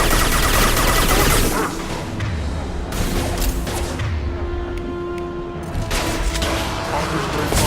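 Heavy firefight in the Mass Effect 2 video game, dense rattling gunfire and blasts pouring out loud and continuous, with brief shifts in intensity and faint voices under the shooting.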